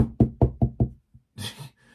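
A voice imitates a knock at a door in the middle of the night: four or five quick close knocks in a row, then a short pause and some breathy mouth noise.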